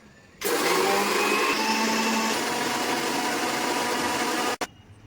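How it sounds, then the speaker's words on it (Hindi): A mixer grinder whirs loudly and steadily for about four seconds, switching on abruptly and cutting off just as suddenly. "वही है तो स्टार्टिंग मिक्सी."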